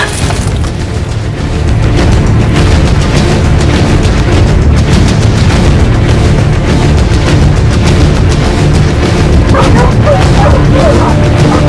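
Dogs bark and yelp frantically during a lion attack, loud and close, with sharp yips and whimpers over heavy rumbling noise and a few shouted voices.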